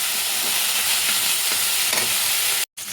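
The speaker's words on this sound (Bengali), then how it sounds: "এবার দিয়ে দিলাম সবজিগুলো, ক্যাপসিকাম, গাজর আর পেঁয়াজ। যেটা হালকা একটুখানি নাড়বো।" Capsicum, carrot and onion stir-fry in hot oil in a kadai, giving a steady, loud broadband sizzle with faint stirring scrapes throughout, broken by a brief silent gap near the end.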